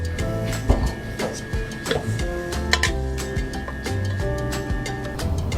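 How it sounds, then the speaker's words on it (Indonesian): A table mixer kneads croissant dough, giving a steady mechanical whir with repetitive ticking and knocking as the dough slaps the bowl, close and moderately loud without talk. "sekarang akan kita aduk menggunakan table mixer hingga adonan ini kalis"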